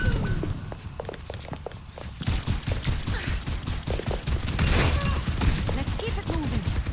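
Rapid video game gunfire crackles in dense bursts over a continuous battle din, with a steady burst after a quieter opening, loud and close.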